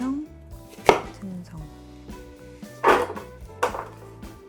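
A knife chopping vegetables, apparently potatoes for a beef soup, into rough bite-size chunks on a cutting board: a few sharp, irregular thuds spaced about a second apart, with light clinks of kitchenware between them.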